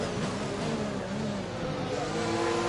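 Race car from the F1 2021 video game driving into the pits at Monza, a steady, loud engine drone with harmonic tones shifting as it slows, continuous and close throughout.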